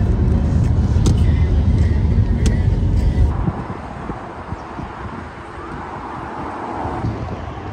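A car driving on a road in moderate traffic: a loud, continuous rumble of engine and tyre noise with wind buffeting, easing to a quieter road hum about halfway through.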